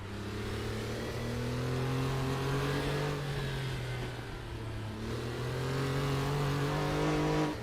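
Porsche Carrera Cup race cars in a racing sim at Knutstorp, engines droning loudly and close, their pitch rising and falling through gear changes and a slight dip mid-lap, with no voices heard.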